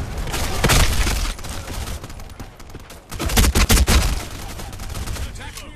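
Gunfire in the online shooter BlackSquad: a burst near the start, then a rapid, close volley of sharp shots over ongoing game noise, with a quieter stretch in between.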